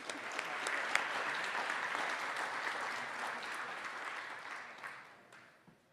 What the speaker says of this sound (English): So give a round of applause for everybody on this session.